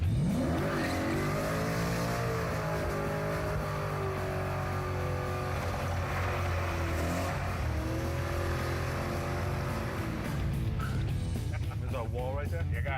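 A 500-horsepower 1979 Chevy Malibu hot rod engine roars at sustained high revs through a tire burnout, loud and continuous, with voices faintly underneath.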